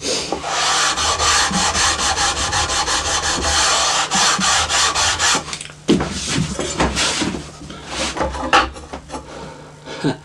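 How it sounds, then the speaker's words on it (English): Sandpaper rubbing back and forth across the wooden body of a scratch-built Les Paul Junior style guitar, close and steady rhythmic rasping strokes, slowing into shorter scrapes toward the end. "And just that little bit of sanding has brought this right down."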